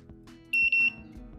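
A Honda CB150R motorcycle's alarm sounds two sharp, high electronic beeps in quick succession, close and clear over a low, quiet background.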